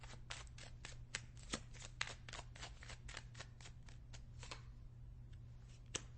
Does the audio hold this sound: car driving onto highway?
no